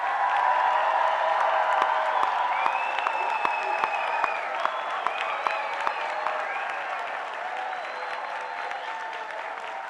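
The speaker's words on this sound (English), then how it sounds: "I want to hear a real round of applause for our graduates today." Large crowd applauding and cheering for graduates at a 2024 commencement ceremony, a loud sustained roar of clapping with whistles and shouts rising above it throughout.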